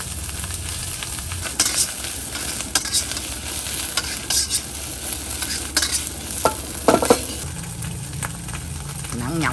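Garlic egg fried rice is stirred and tossed in a heavy pan weighing over two kilograms, with continuous loud sizzling and frying punctuated by scraping and clattering spatula strokes at close range.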